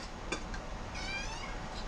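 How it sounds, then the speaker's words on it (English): A house cat gives a short, thin, high meow against steady background hiss, faint and fairly close, with a small chirp before it. "You've got such a sweet little meow."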